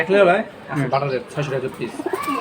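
Racer pigeons at a Bangladeshi pigeon market coo in soft repeated throaty phrases close by, overlapping with nearby talk.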